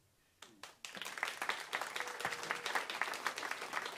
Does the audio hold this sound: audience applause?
yes